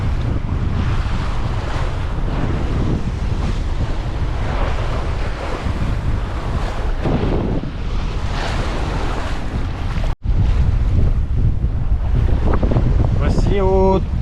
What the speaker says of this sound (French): aujourd'hui on a pas mal de vent. On a des vagues qui déferlent